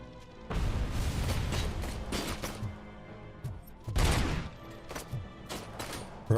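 Bursts of rapid gunfire and heavy booming blasts come from a first-person shooter, Robocop: Rogue City. Two loud volleys arrive close and forceful, separated by quieter mechanical clatter and lighter single shots.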